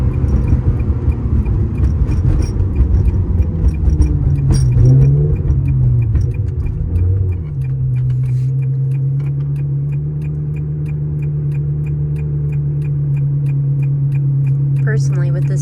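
A 2000 Ferrari 360 F1 Modena being driven, its engine a steady low drone with a shift in pitch partway through, heard from inside the cabin as a person talks over it.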